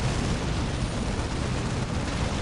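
Earthshaker artillery shells pound the battlefield in Dawn of War, a continuous dense rumble of blasts and booms with no clear gaps between impacts.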